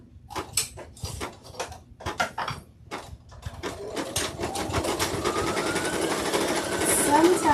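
A sewing machine starts with a few short bursts of stitching, then runs in a fast continuous whirring rattle that builds louder toward the end.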